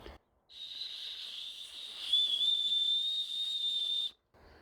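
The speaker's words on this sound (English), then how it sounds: "It's got a whistle here." A small whistle built into a survival clasp is blown in one steady, shrill, moderately loud tone lasting several seconds, close to the ear, with quiet before and after.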